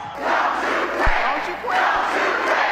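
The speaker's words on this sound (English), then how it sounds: ""Don't you quit," they chanted." A large crowd in Detroit chants in unison at a rally, a dense, steady roar of many voices rising and falling in waves, with a brief thump partway through.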